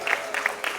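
Audience applause at a cultural programme, a short burst of clapping from a crowd, moderately loud and brief, with a voice faintly under it.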